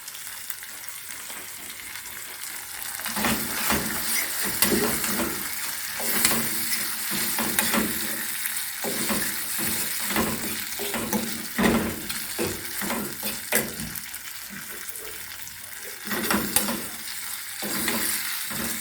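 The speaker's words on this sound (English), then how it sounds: "I'm gonna make it fry up with 1 more minute and then we take it off, lock off the stove." Ackee and saltfish with black pepper frying in a pan on a stovetop, a continuous close sizzle broken by repeated scraping stirs of a utensil against the pan, with no voices.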